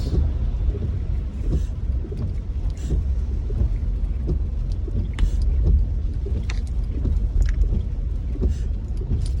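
Steady rain pattering with scattered sharper drops, heard from inside a moving vehicle on a road in Quezon, Philippines, whose low engine and road rumble run underneath.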